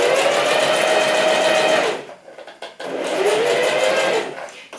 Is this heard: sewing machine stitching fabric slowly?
yes